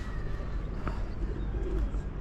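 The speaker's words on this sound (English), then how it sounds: "Oh, birds." Pigeons cooing softly beside a flooded river during a storm, faint calls under steady outdoor rumble and wind noise.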